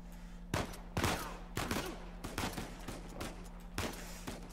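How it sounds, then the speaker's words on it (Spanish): A rapid burst of gunfire from the video game Uncharted 4, several sharp shots in quick succession over a steady low hum, moderately loud with no voices. "Nadie habrá escuchado los tiros"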